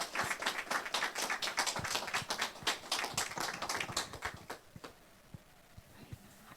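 Audience clapping at a storytelling event, brisk and fairly close for about four seconds, then thinning out into a few scattered claps.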